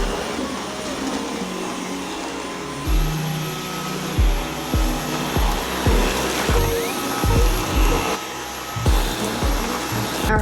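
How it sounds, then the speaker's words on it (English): A household vacuum cleaner runs loudly and steadily at home while cleaning, its drone pulsing with bumps as it is pushed back and forth. "Now I have space to vacuum."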